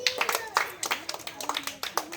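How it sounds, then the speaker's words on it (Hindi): A village crowd claps for a travelling street performer's show: a few scattered hand claps over about two seconds, mixed in under a voice talking. "ताली बजा दो जरा एक बार सब जने।"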